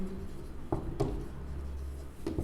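Chalk or marker scratching on a board during a maths lesson on circles, with a few short strokes and taps heard close over a low room hum.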